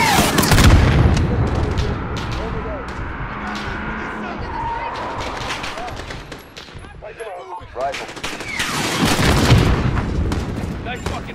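Heavy gunfire in Call of Duty: Modern Warfare, with sustained rifle and machine-gun bursts, booming blasts at the start and end, and radio-style voices talking over the din.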